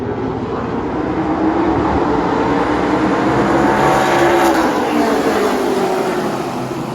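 Race cars roaring around the Nashville Fairgrounds Speedway asphalt track during a night race, a loud continuous engine drone that swells as the pack passes close by, with no talking.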